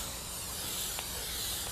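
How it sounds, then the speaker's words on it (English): Cooking spray greasing a casserole dish for a Greek pasta bake, a close, steady hiss from the can lasting under two seconds with no talking. "So spray it really well."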